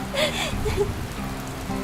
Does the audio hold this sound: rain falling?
yes